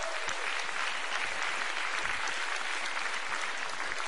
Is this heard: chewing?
no